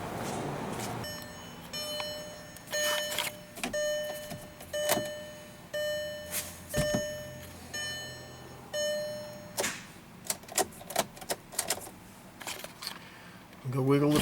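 A Volkswagen TDI diesel engine cranks repeatedly on a jump boost box with medium charge but does not start, giving a series of short, strained starter bursts separated by pauses, with beeps and clicks in between.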